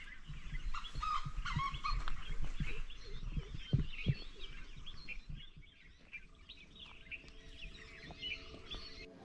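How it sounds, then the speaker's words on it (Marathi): Birds chirp and sing faintly in the distance at dawn on a mountain pass trail near Waghjai Ghat in Raigad, overlapping calls drifting over quiet outdoor ambience with a few low thumps early on. "खरं पक्ष्यांचा इतका भारी आवाज येतोय ना"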